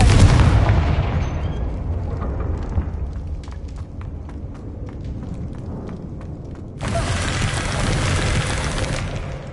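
A Confringo fire spell in Hogwarts Legacy bursts with a loud, booming explosion that rumbles and fades, followed by faint crackles and then a second roaring surge of fiery noise.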